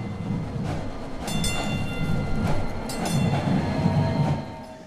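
A DART Orange Line light rail train runs on its inaugural trip, with a steady low rumble and rolling wheel noise heard from on board and a few sharp clacks and squeals over the track.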